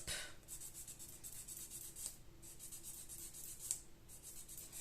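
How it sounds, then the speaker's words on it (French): A nail file rubbing along the edges of false nails in quick, light repeated strokes, close and soft, with a few sharper scrapes. "bien limer les rebords, vous voyez, pour pas qu'on voit la démarcation"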